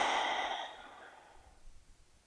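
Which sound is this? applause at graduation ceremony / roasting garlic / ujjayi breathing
ujjayi breathing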